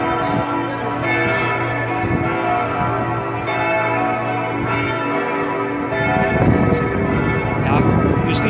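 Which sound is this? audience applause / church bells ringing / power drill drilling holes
church bells ringing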